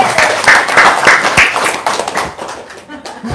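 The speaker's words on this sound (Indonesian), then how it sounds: "Tepuk tangan dong." An audience at a religious talk breaks into brief clapping and applause that fades out over a few seconds, with voices underneath.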